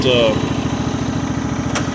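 A Simplicity Regent riding mower tractor engine runs steadily up close, a loud, pulsing mid-pitched drone with a rapid regular chug, heard alone throughout.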